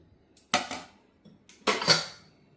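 Coffee cups set down into a dishwasher rack, making two quick, close clattering bursts of ceramic clinking against dishes, with quiet pauses between.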